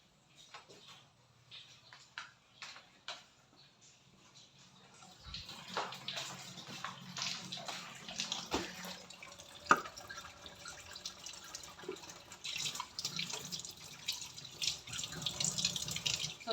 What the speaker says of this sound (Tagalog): nilagyan ko na naman ng mga tubig ang aming empty bottles kasi baka matagal ang pagbabalik ng water pag mawala siya